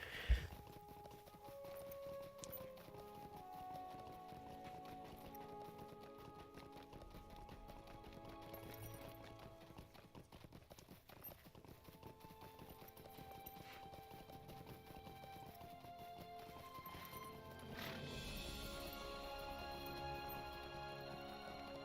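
A pony carrying a dwarf clip-clops along in the Lord of the Rings Online video game, a soft, steady rhythm of hoof falls under faint game music, with no talk.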